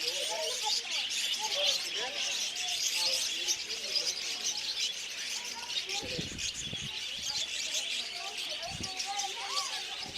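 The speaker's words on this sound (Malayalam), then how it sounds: "market full പക്ഷികളാട്ടോ love birds" A dense, continuous chorus of lovebirds chirps and twitters all around in a pet market in Qatar, with a few dull thumps and faint voices in the background.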